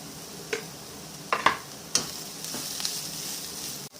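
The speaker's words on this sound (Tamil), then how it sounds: "இப்போ நல்லா வதங்கிடுச்சு." Carrot samosa filling with chili powder sautéing in a little oil in a pan gives a soft, low sizzle broken by a few distinct scraping and clicking stirs, close and moderately quiet.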